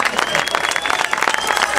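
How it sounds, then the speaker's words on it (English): An outdoor audience at a 2015 Tour of California cycling team presentation applauds with dense, steady clapping, and voices can be heard through it. "can we have a big round of applause"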